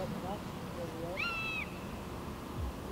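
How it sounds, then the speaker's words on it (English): A single drawn-out bird call rises and holds briefly over a steady outdoor background hiss at a carp-fishing water's edge, fairly faint and somewhat distant. "Now you can hear them birds"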